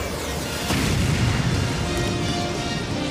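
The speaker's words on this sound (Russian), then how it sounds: "Двойной ракетный удар!" A heavy, sustained rumbling boom from a cartoon double rocket strike rolls in and holds for a few seconds, like a cartoon explosion blast.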